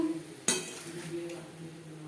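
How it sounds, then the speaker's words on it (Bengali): Fried soybean and potato are transferred into a bowl, opening with one sharp metallic clink followed by soft scraping and a faint steady hum. "একটা পাত্রে উঠিয়ে নেব"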